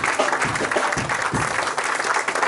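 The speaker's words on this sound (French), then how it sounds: "donne-lui l'offrande d'acclamation." Church congregation applauding together at a Christian worship service, a steady, dense wash of clapping that carries on without a break, moderately loud and close.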